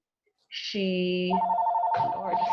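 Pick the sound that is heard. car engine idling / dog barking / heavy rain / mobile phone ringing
mobile phone ringing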